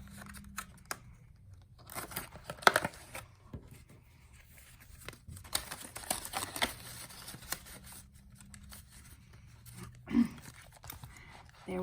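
Paper cash bills being handled and stuffed into a paper savings envelope, a quiet close-up series of crisp rustles and crinkles with brief pauses between them.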